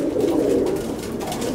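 Racing pigeons in a loft coo in a dense, continuous low murmur, close and steady, with no speech over it.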